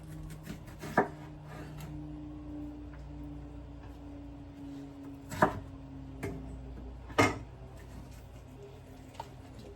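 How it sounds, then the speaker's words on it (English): A knife slicing half an onion on a cutting board, three or four distinct chopping thuds spaced seconds apart over a low steady hum, close and moderately loud with no talking. "So we'll just slice that up."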